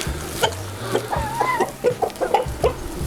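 Several chickens let outside on frozen ground cluck close by in short, irregular bursts, with soft low murmuring calls between them.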